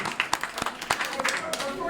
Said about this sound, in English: So we're going to give you a clap.